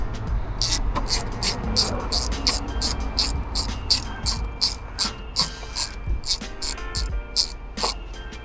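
A 10mm ratchet loosening bolts on the intake manifold of an Audi A3 8P, with rapid regular clicking bursts repeating close up over a low background hum.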